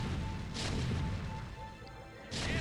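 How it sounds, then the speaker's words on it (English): Siege tanks in the game StarCraft Remastered shell enemy cannons, sending out two sharp, crashing impacts about two seconds apart over a low, steady battlefield rumble, with no voices. "we're going to let the siege tanks deal with the cannons."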